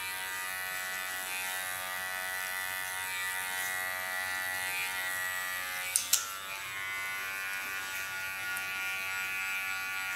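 Electric hair clipper held in a combing position, softening the cut line of an asymmetric platinum pixie bob; a steady close buzz runs the whole time with a brief click or two midway.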